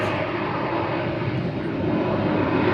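A jet airliner comes in to land at Atlanta airport, a loud, steady broadband engine roar that fills the whole stretch without pause or talking.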